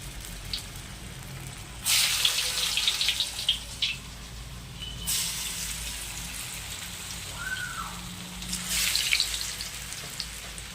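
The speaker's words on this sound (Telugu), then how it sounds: "మూకుట్ల నూనె వేడైంది ఇప్పుడు ముద్దగారెలు వేస్తున్నా" Black-eyed pea fritters frying in hot oil in a pan give a steady close sizzle, with louder hissing bursts as more batter goes in.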